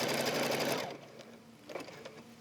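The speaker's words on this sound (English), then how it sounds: "this step is going to stitch this pocket, this piece that I just placed on at the top" Embroidery sewing machine stitching a fabric pocket onto a project in the hoop, a loud steady mechanical whir that winds down after about a second into quieter clicks and handling noise.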